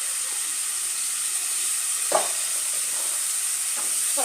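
Bitter gourd sautéing with turmeric and chilli powder in a pan, a steady soft hiss of frying with a few short scraping stirs, no talk.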